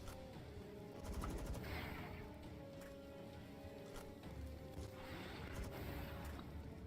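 Gunfire from shooting a creature in the video game Palworld: sustained, dense bursts of shots running throughout, loud and close, swelling at a few points.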